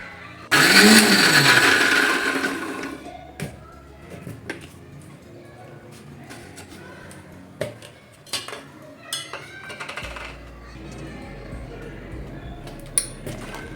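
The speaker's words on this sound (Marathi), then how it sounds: "तर आता हा लसूण मी थोडासा मिक्सरला बारीक फिरवून घेणार आहे" A mixer grinder whirs loudly for about two seconds as it chops garlic dry without water, then stops, followed by scattered clinks of utensils and a lid, with a voice speaking intermittently.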